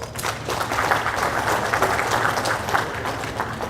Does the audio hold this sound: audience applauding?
yes